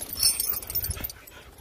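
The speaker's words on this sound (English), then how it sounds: "Very serious dog, very intense, nothing to fuck with." A dog in a breeding kennel yard lets out a few short, thin whimpers and whines at close range, with background noise around them.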